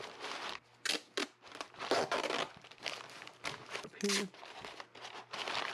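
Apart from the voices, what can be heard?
tape being torn and wrapped around car parts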